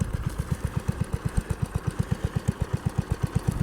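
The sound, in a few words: garden tractor engine idling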